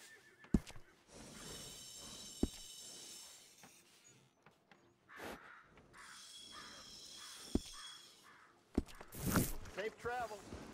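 A horse in Red Dead Redemption 2 whinnies amid game sounds, with sharp clicks, hoof-like taps and spoken dialogue mixed in at low overall level.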